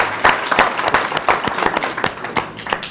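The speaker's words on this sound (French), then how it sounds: "Je vous demande de l'applaudir." Audience applause at a book dedication ceremony, a dense, steady patter of many hands clapping close by, lasting throughout with no talk over it.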